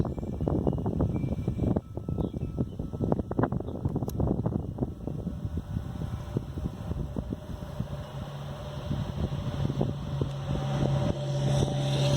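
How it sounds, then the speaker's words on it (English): Steady buffeting wind rumbles against the microphone outdoors by a wild apple tree, loud and continuous, with a faint low hum joining toward the end. "especially when it's windy out"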